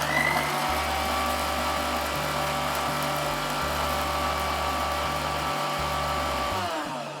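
A mixer grinder whirs loudly and close, grinding summer drink ingredients into powder, its motor running steadily with a few short stops and restarts, and no speech over it.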